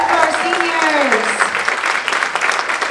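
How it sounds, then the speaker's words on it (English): A crowd claps steadily for the seniors at a school spring band concert, dense applause filling the room while a voice speaks over the start. "Rousing applause"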